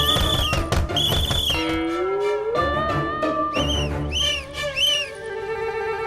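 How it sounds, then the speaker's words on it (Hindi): Whistling drifting out of a closed room in a TV drama, several tonal whistles rising and gliding in pitch over a busy background of music and effects, fairly loud, with no speech during it. "ये कमरे में से सीटी की आवाज आ रही है।"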